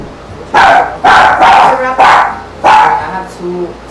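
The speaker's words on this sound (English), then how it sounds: "I have two security dogs." Two small dogs, one about nine pounds and one about four, bark sharply and close by in a burst of five or six loud yaps with short gaps, ending in a softer yip.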